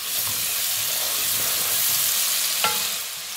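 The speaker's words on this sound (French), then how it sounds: "Je viens d'ajouter le céleri branche et l'ail haché." Celery and chopped garlic sweat in oil with carrots and lentils in a pot, making a continuous close sizzle with soft stirring scrapes and one sharp clack near the end.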